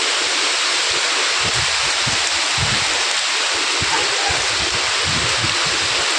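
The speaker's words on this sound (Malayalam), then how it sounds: "നല്ല കാറ്റും ഉണ്ട് കേട്ടോ കാറ്റടിക്കണ കണ്ടില്ലേ നല്ല വെയിലും നല്ല മഴയും ചീറ്റിലടിക്കുന്നുണ്ട്" Steady, loud wash of rain with gusty low rumbles of wind buffeting nearby, continuous throughout without any talking.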